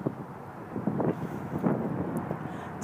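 Outdoors, wind buffets the microphone in a low, rumbling roar of uneven gusts that swell and fade across the few seconds. No voices are heard.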